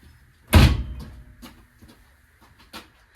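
One loud, close door slam rings out in a workshop during a VW engine install, then trails off into a few faint knocks and rattles.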